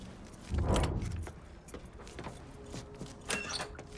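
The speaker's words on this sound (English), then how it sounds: "Keys in the other room. Grab them so we can get the hell out of here." A set of truck keys jangles as they are grabbed in the video game Mafia 3, with a loud metallic rattle up front followed by softer clinks and a few lighter shakes near the end.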